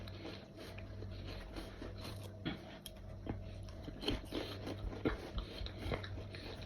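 New spicy potato chips being eaten up close, heard as a steady run of crisp bites and crunchy chewing over a low background hum, with no talking.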